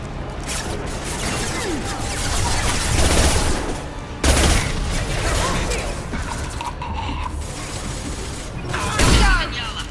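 Combat gunfire in the video game Mass Effect 2, with dense overlapping shots and impacts in continuous bursts and a couple of heavier booms, mixed with voices talking throughout.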